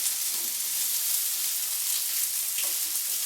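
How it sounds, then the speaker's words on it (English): Rabbit pieces browning in a hot pan give a steady, close sizzle of frying fat, an even hiss with faint crackles and no talking. "Cook the rabbit a couple of minutes on each side."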